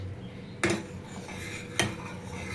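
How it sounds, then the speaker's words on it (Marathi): A spoon stirs rice through milk in a pot for kheer, giving two sharp metallic clinks against the pot's side about a second apart over a low, steady background. "तांदूळ टाकल्यावरती सतत 5 ते 10 मिनिटं आपल्याला तांदूळ दुधामध्ये व्यवस्थित ढवळून घ्यायचे आहेत"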